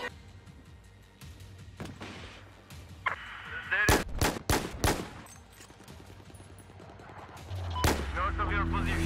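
Machine gun fire in the video game Battlefield 4, several loud sharp bursts of rapid shots in the middle, surrounded by quieter game ambience and distant rumble.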